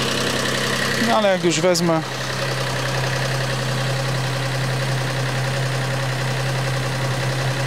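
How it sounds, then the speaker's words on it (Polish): The exhaust of a cogeneration engine gives a steady, loud, low droning hum close up. Someone speaks briefly near the start, then the drone continues alone. "Z wydechu jest chyba dźwięk najgłośniejszy. Jest taki niski, takie robi buu."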